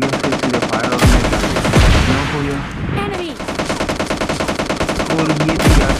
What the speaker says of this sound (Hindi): मैं जैसे कि अपने भागा तो मुझे फायर हो गया